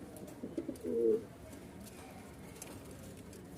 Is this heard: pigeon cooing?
yes